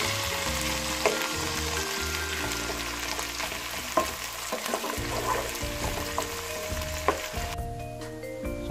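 Crushed garlic and chopped onion sizzle steadily in a pan for Hungarian paprikas krumpli, with occasional stirring and light clinks over a constant close frying hiss; no one speaks.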